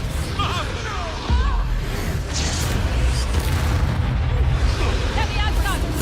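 Bombarda blasting spells in the Hogwarts Legacy video game during a fight with goblins: continuous booming explosions and bursts, loud and dense throughout, with a voice speaking over the din and spell effects whooshing.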